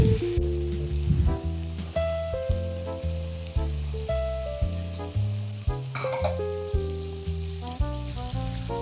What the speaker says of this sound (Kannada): ಈರುಳ್ಳಿ ಫ್ರೈ ಆದ ನಂತರ ಬೀನ್ಸ್ ಹಾಕ್ಕೊಂಡು ಫ್ರೈ ಮಾಡ್ಕೊಳ್ತೀನಿ.